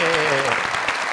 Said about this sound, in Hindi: माँ जी के लिए तालियां